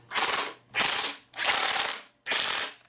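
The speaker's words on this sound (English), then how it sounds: "Now I'm going to be using my torque wrench here" A torque wrench ratchets on head gasket bolts of a Kohler FC540V engine, four distinct close, loud back-strokes of clicking pawl, evenly spaced with brief gaps between, no talk.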